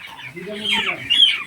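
Egyptian Fayoumi chickens cluck close by on a farm, a short burst of rising, throaty hen calls that grows louder toward the end.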